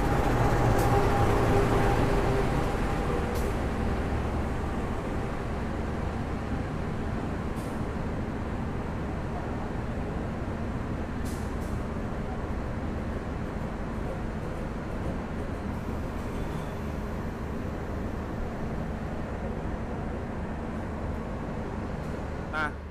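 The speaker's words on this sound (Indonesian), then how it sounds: "Yang akan segera masuk adalah rangkaian kereta Mataram ya." The Mataram passenger train rolls into an Indonesian railway station, a sustained loud rumble of wheels and carriages, heaviest at the start and easing off over the approach.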